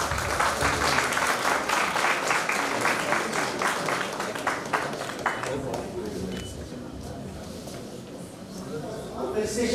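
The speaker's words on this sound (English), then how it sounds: "Big applause, please." Loud, dense applause from the audience at an education leadership bootcamp session during a presentation of appreciation, sustained clapping that gradually thins and softens toward the end.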